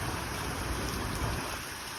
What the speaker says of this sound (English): Oh yeah, here comes the hail now.